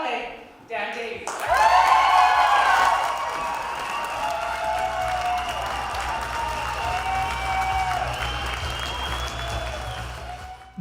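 Supporters at an election-night victory for BC Liberal Dan Davies in Peace River North erupt in loud, sustained cheering and applause over booming rock music, a dense crowd roar that fills the room.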